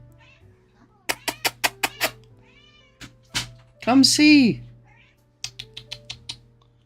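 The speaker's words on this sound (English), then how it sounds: "This is the most vocal cat on planet Earth" A cat meows loudly and repeatedly up close, a long drawn-out yowl in the middle, between bursts of rapid clicking taps; a person speaks briefly.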